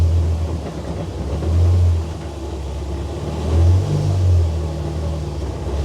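A car engine moving between gears, a steady mid-range drone that swells twice into short revving surges before settling back, close and loud throughout.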